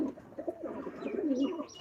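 Pigeons coo in low, rolling, throaty calls close by, one soft cooing phrase running continuously with faint higher chirps over it.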